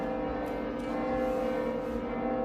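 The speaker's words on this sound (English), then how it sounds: "not everyone loves bells like this at 6 AM in the morning" Church bells ring in Malta in the early morning, heard from inside an old limestone house as a steady, sustained metallic tolling with a lingering hum and no talk.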